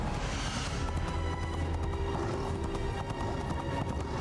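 Horse hooves sound in an animated Batman episode, a faint galloping clatter under cartoon music and effects that builds over several seconds.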